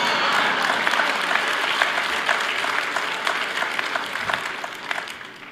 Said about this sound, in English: Let's all give Dennis Rodman a great round of applause.